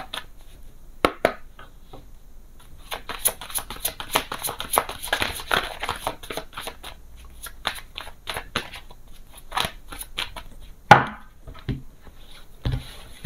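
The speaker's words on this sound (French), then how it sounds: "Je vais mélanger un peu et je vais aller les chercher." Tarot cards being shuffled by hand, producing bursts of quick, crisp riffling and flicking clicks close up, with brief pauses and a sharper tap near the end.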